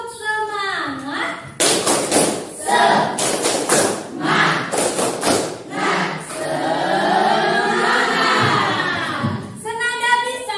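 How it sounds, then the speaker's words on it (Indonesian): A school class does a rhythmic spirit clap, with bursts of sharp unison claps and thumps alternating with shouted chanting from the children and a teacher's voice, close and loud. "Kita melakukan tepuk semangat terlebih dahulu."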